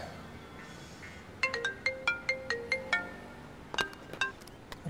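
A melodic phone ringtone in a Telugu drama series plays a run of bright, evenly spaced chiming notes, then a second, busier burst of tones, loud and clear with no talk over it.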